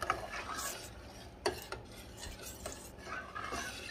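Spoon stirring homemade tomato sauce in a pot, with scraping and soft clinks against the metal and one sharper knock partway through, steady and close with no talk.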